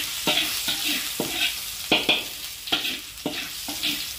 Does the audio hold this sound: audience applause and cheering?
no